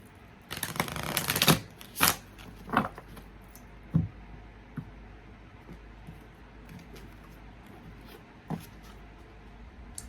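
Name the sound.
tarot cards being shuffled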